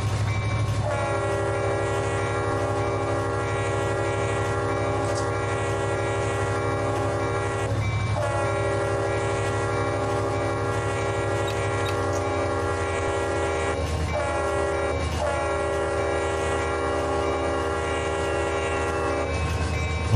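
A locomotive horn in the Run 8 Train Simulator game blasts in long repeated chords over a steady rumbling engine, with short breaks between the sustained blows.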